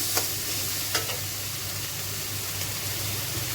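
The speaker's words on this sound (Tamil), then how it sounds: "இந்த மாதிரி கருவேப்பிலை சேர்த்து வதக்கிக்கிறது நல்லா" Curry leaves sautéing in a pan for coconut chutney, a steady close sizzle with a few sharp crackling pops near the start, loud and continuous with no voices.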